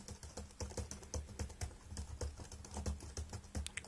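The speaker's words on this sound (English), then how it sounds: "when you're actually typing, it's got a very sort of plasticky sound to it" Typing on the plasticky keyboard of a Dell XPS 15 Intel Core i5 laptop, a quick irregular stream of close, crisp key clicks with short pauses, no speech.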